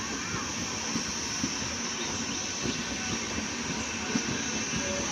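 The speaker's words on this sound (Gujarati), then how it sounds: "ધીમે ધીમે એમને સ્પીડ પકડી લીધી છે જબલપુરે." An Indian passenger train bound for Jabalpur pulls out of platform 2 and gathers speed, a steady rumbling roll of wagons with soft rhythmic clacks, mid-distance and constant, with a thin high whine above and no voices.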